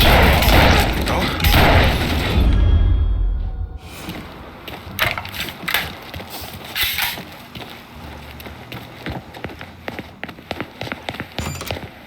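Gunfire in the video game Mafia III, with a heavy rumbling burst early on, then scattered sharp shots and impacts at mid distance, while game character voices shout over the action.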